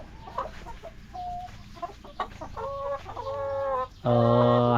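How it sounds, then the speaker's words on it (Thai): Backyard chickens recovering from illness cluck and call near the listener, a run of short clucks building into longer, louder drawn-out squawks at the end, no talk over them. "อันนี้นี่คือไก่ของเฮานี่เริ่ม สิฟื้นตัวกลับเข้าสู่ภาวะปกติแล้วเนาะนี่"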